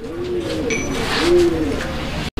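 A pair of Golla pigeons coo softly and repeatedly close by, low rolling calls over a steady background hum, ending with a brief dropout.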